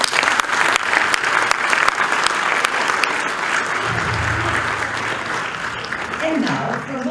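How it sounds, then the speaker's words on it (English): Audience applause for a children's performance at a Mărțișor Day cultural event, steady dense clapping throughout with a voice speaking over it near the end. "Another round of applause for them,"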